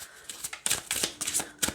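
Oracle cards from The Creativity Oracle deck riffle-shuffled in quick bursts of crisp paper flutters, close and fairly soft, repeating several times with short pauses between.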